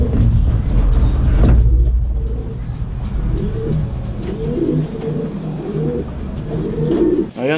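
Racing pigeons coo repeatedly at the loft, with soft rolling calls close by under a steady background rumble of passing traffic.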